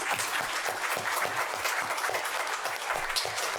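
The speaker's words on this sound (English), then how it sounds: "let's give a big round of applause for our panel." An audience applauds a discussion panel, a steady, dense patter of many hands clapping at moderate distance for several seconds without a break.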